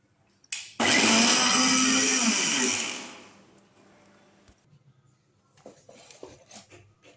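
A kitchen mixer grinder blitzes roasted mung dal with jaggery, ghee and cardamom, a loud steady whirring roar lasting about two seconds before cutting off, followed by faint clatter and handling noises.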